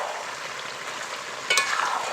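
Chicken curry frying in its released oil, giving an even, dense sizzle, with a brief louder scrape of stirring late in the clip.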